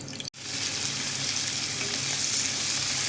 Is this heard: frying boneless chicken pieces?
yes